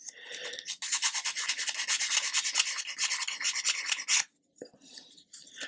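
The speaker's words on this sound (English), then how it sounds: "If you go with the grain, you'll have to do a lot more sanding." A wooden display stand for an Amati 1/80 Endeavour model ship is hand-sanded against the grain, giving close, continuous rasping strokes for about four seconds, a brief pause, then a few lighter scrapes.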